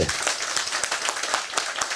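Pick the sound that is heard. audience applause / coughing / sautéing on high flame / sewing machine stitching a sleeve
audience applause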